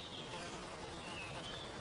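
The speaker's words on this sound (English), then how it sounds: "And all you can hear is bees buzzing and birds tweeting." Bees buzz among roadside wildflowers in the Argyll and Bute countryside as a soft, continuous, distant hum. The sound is faint and steady, with no voices.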